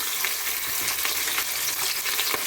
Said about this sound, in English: over here I have my pan with some oil. I'm gonna put a pepper in it, and then I'm gonna fry them